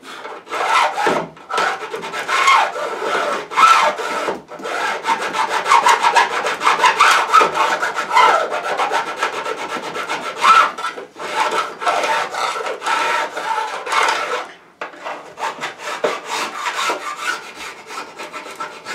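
A file dressing guitar frets against the fretboard in a luthier's fret job, loud continuous rhythmic rasping strokes with brief pauses, no talking.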